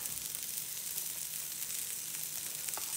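Kerrygold butter melting in a La Creuset frying pan gives off a steady, close hiss of sizzling with faint crackles throughout, alone without talk.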